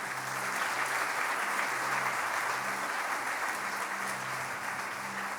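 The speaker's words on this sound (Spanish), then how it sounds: "Le damos un aplauso al Señor." A church congregation claps together in a dense, even wash of applause that stays loud and steady for several seconds with no pauses, with faint speech underneath.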